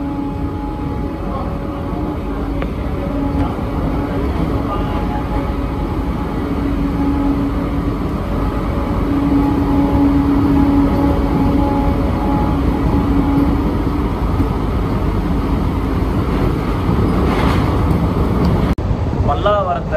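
A Chennai AC local EMU train runs at about 90 km/h between Tirusulam and Pallavaram, giving a steady loud rumble and rolling roar heard from inside the car, with talk over it throughout.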